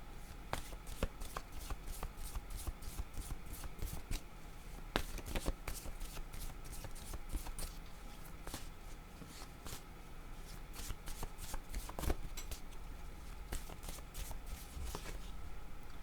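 Tarot cards are shuffled repeatedly close by, giving a quiet, steady run of crisp riffling flicks and soft taps with no talking.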